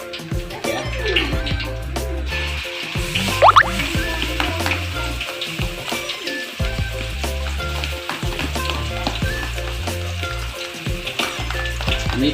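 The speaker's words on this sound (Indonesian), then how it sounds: "Ini sudah mulai panas, sekarang kita masukin bawang putih yang sudah kita blender halus ya." Finely blended garlic goes into hot oil for a chicken ragout risol filling and fries with a loud, continuous sizzle, punctuated by stirring scrapes.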